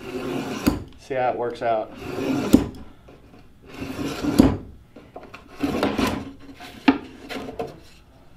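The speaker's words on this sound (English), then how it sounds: "I'm just gonna score it a few times and it should just break right off" Repeated scoring strokes of a blade drawn along a kerf groove cut into wood, several short scraping rasps spaced a second or so apart, close and fairly loud, with a person talking in between.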